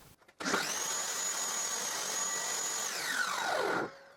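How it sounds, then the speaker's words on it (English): A power saw trims a piece of wood to length, a loud close whine that spins up, holds steady through the cut for about three seconds, then winds down and stops. "But one piece is slightly longer, so I trim it."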